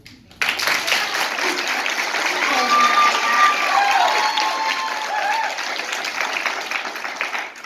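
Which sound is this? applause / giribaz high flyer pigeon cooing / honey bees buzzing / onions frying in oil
applause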